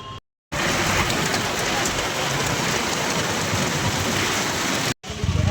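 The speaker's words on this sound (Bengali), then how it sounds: "বৃষ্টি অনেক জোরে জোরে পড়লো" Heavy rain pours down steadily as a dense, loud roar with no pauses, cut off briefly near the start and again near the end.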